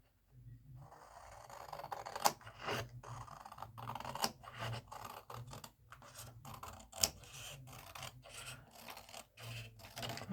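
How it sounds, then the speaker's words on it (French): Small scissors snip out little decorative roses from festive Christmas paper, a close, continuous run of crisp cuts and rustling paper with irregular sharp snips. "je vais découper les petites roses qu'il y a là"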